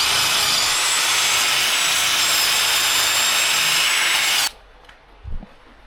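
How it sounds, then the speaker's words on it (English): Power tool cleaning surface rust off the inner wheel arches of a crash-damaged Nissan 350Z, a loud steady high-speed whine and grind for several seconds that cuts off abruptly, followed by a brief faint knock. "now the monotonous task of cleaning up both inner arches."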